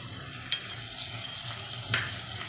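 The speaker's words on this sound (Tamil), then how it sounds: "இப்போ இதையும் போட்டு நல்லா ஃப்ரை பண்ணிக்கிடணும்." Ginger garlic paste fries with onion and mint in a pan for mushroom biryani, giving a steady close sizzle with a few sharp stirring clicks and scrapes, and no voices.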